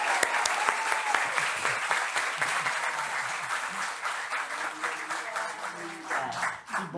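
Applause from an audience at a leadership and productivity event as a speaker is called to the stage, dense clapping sustained for about seven seconds, with a voice briefly audible near the end.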